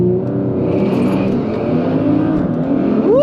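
An Audi B9 S4 with Integrated Engineering Stage 1 tune on E85 launches hard at a drag strip, its engine roaring loud and continuous as it accelerates, with a rising whine near the end.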